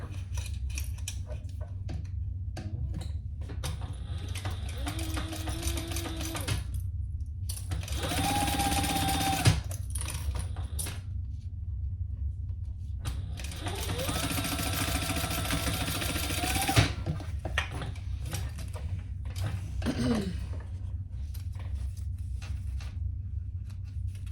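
A sewing machine stitches the seam of a fabric hip bag, running in several loud, whirring bursts separated by short pauses.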